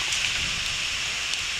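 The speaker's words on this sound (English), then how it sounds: "I feel the rain slightly starting." Rain beginning to fall in the jungle at night ahead of a storm, a steady broad hiss of drops on leaves with faint soft patter throughout.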